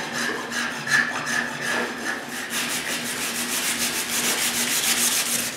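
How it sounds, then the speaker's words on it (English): A spokeshave shaves down an oversized wooden dowel for a wooden tripod, making steady, rhythmic scraping strokes that are close and fairly loud and run continuously with no talking. "I fix this with a spoke shave."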